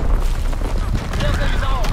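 Heavy artillery strike explosions in the World War II shooter Call of Duty WW2, a dense, continuous roar of booming blasts and rumbling fire with a faint radio-style voice underneath.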